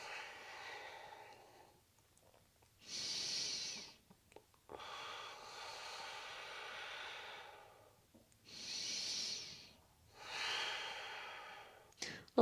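Slow, deep breaths during a vinyasa yoga flow: long hissing inhales and exhales come in steady waves close to the microphone, with short pauses between them and no talking.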